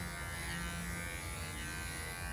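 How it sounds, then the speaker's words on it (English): Professional cordless dog grooming clippers hum in a steady, continuous electric buzz throughout, fairly quiet, with no talking. "These ones are actual proper professional cordless groomers."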